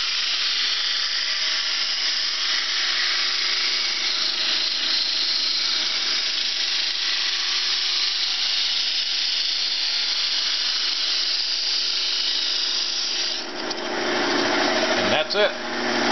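A 60 grit sanding belt hisses steadily against a wooden drumstick spinning on a lathe, a constant bright whirring that shifts briefly near the end.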